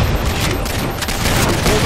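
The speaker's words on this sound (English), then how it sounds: "Throw grenade." Explosive blasts and gunfire from Halo 4 multiplayer combat, a grenade detonating amid a dense, continuous barrage of shots and booms at close range with no pause.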